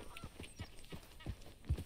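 Horse hooves clip-clop in a steady, uneven rhythm of several thuds, moderately close, with faint background noise, in the video game Red Dead Redemption 2.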